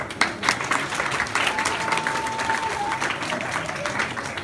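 An audience at a summer graduation ceremony breaks into applause during a speech, with steady crowd clapping and some cheering filling the whole stretch.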